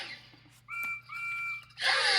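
A steam train whistle for Percy the Small Engine, a small saddle tank locomotive: two clear sustained whistle blasts in the middle of the clip, with a break between them, set between bursts of broadband noise.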